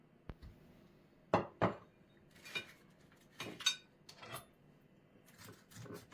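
A knife slices through a cleaned herring fillet for a beetroot and herring salad, making a few close, sharp taps and scrapes against the board, separated by short pauses.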